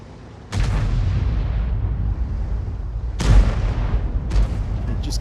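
An Object 261 self-propelled artillery gun in a tank video game fires three heavy, booming shots, each with a long rolling decay.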